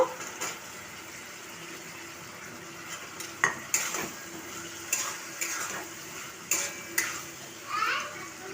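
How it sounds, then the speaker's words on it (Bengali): Pieces of elephant foot yam are stirred into sizzling spice paste in a pan, a constant frying hiss with repeated scraping strokes and metal clinks of the spoon against the pot, close, alongside faint children's voices in the distance. "মশলাটা আমার কষানো হয়ে গেছে, এবার ওলের পিসগুলো দিয়ে দেব।"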